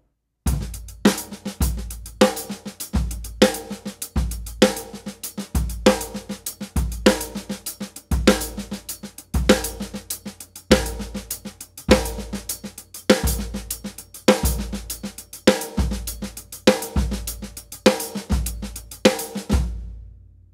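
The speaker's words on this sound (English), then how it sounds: "I'll repeat each bass drum pattern 1 time and then go to the next permutation." A drum kit plays a steady groove built on single paradiddles while the bass drum pattern shifts through permutations, punchy close hits with dense cymbal wash repeating in even bars, no voice.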